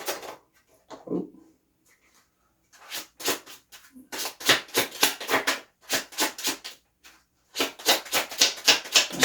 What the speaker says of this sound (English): cut this deck, give a shuffle and see what comes out